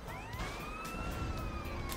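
Police siren wailing in the video game GTA San Andreas, a steady rising and falling tone sounding continuously and loudly over engine and traffic noise, with no voices.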